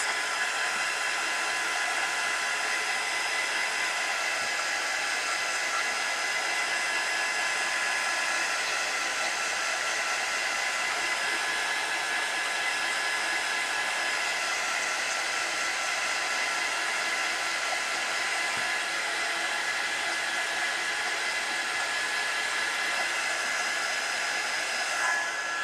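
A hair dryer blows steadily to dry a freshly made print, a continuous close, loud whooshing hum with a bright airy hiss that holds unchanged throughout, with no talking.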